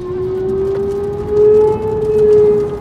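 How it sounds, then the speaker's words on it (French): Civil defense tornado warning sirens wail loud and sustained during the El Reno, Oklahoma tornado of May 31, 2013, heard from inside a car, with the pitch holding a steady rising tone. "Les sirènes d'alerte s'enclenchent, faisant monter la pression dans la voiture."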